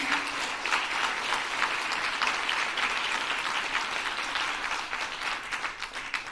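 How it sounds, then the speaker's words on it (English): Sustained, even applause from an audience at an award ceremony, a dense wash of many hands clapping throughout without pause. "So I hope you all will join me in giving a round of applause for Mark and Judge Snyder."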